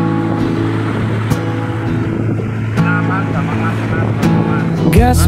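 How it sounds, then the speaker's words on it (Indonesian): A motorcycle rides along a village road, its steady engine drone continuous and close with mild rises as it picks up speed, under wind noise and faint voices. "Gas motor perlahan kita pun mulai melaju, menembus jalan kampung"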